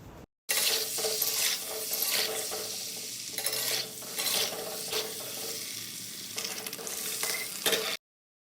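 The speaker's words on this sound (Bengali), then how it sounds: "তেল গরম হয়ে গেলে কড়াতে ডিম দিয়ে দেব।" Eggs frying in hot oil in a kadai give a loud, steady sizzle with scraping stirring sounds, broken by a short pause partway through and cutting off abruptly at the end.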